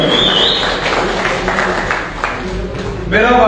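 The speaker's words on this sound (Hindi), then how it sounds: "तो तालियां बजा के" Crowd at a fire brigade ceremony claps in a moderate wash of applause beneath a voice, with a louder burst of clapping and shouting near the end.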